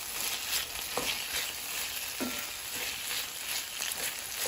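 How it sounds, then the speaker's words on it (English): Cooked pasta stirred into a pan of frying mushrooms and onions, a soft steady sizzle with a few light scraping stirs, fairly quiet and with no voices. "I'm just going to take it and add it right to my mushroom and onions mix. And then I'm just going to mix that up."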